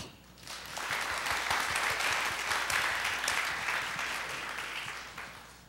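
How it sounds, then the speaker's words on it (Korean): An audience at the 2012 Technology-Humanities Convergence Forum gives a full, steady round of applause that swells quickly and holds evenly for several seconds. "여러분의 큰 박수로 시작하겠습니다"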